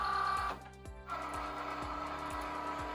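A Cricut Joy cutting machine pulls in its mat. Its motor whirs steadily with a brief pause partway through, then keeps a soft, even mechanical hum with faint rhythmic ticking, close by.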